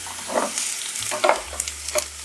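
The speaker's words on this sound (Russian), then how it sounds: "Наливаю растительное масло. Я использую оливковое. Отправляю обжариваться сначала лук до легкого золотистого цвета." Onion frying in olive oil in a pan gives a steady close sizzle with crackling bursts and occasional stirring scrapes.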